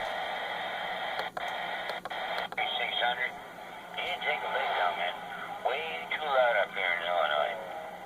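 Received audio plays through the small speaker of a President Bill CB radio, giving a thin, band-limited voice with static hiss, occasional clicks and fluctuating loudness.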